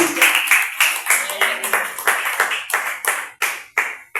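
A church congregation at a service in Ecuador claps in steady unison as an offering of applause, a brisk even rhythm of many hands.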